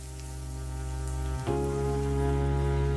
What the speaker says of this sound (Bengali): এরপর সেটাকে আপনারা ভেজে নিন যতক্ষণ এর কাঁচা গন্ধটা চলে